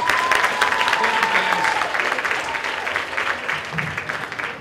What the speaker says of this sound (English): Give my two helpers a big round of applause.